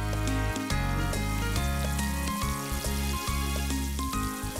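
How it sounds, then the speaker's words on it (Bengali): Chopped garlic and flour sautéing in melted Amul butter in a pan, a steady close sizzle and crackle with no voices. "খুন্তি দিয়ে কিছুক্ষণের জন্য সাঁতলান এবং তার মধ্যে ময়দা দিন।"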